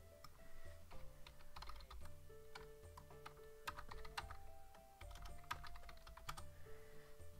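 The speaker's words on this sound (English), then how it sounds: "Yes, I know, you could hear so much of my typing." Rapid clicking of keys on a computer keyboard, fairly faint and continuous, over a low background hum.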